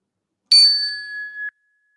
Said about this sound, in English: I'm just going to go ahead and ring this bell and just follow the sound of the bell to the very last trace of sound.